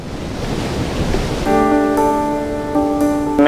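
Ocean waves wash steadily over Napantaw Reef, a continuous close rush of surf, joined about halfway through by a sustained tonal hum layered over the water noise.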